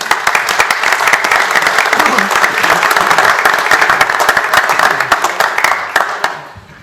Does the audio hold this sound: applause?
yes